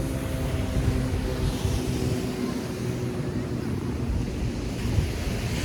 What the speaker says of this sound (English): Wait till the plane leaves.